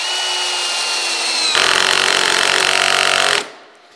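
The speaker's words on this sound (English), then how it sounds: "when I get to burying the screw, you're going to hear the clutch sort of rattle" A power drill drives a screw into wood with a steady high whir, then shifts into a louder, coarse rattling as the clutch slips when the screw seats, stopping abruptly after about three and a half seconds.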